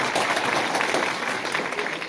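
Audience applause at a Dr. Bhimrao Ambedkar Jayanti ceremony, a continuous broad patter of many hands clapping, loud and sustained throughout with a slight fade near the end.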